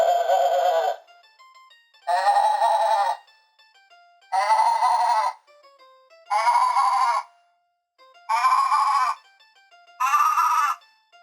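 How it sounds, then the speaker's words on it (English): A goat bleats six times at an even pace, each cry about a second long and separated by near silence, clear and close. "G is for goat."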